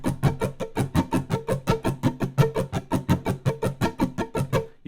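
A guitar strummed in a steady rapid rhythm runs through an Axe FX 3 flanger at a rate of 0.5, the repeated chords sounding close and even with a sweeping tonal shimmer.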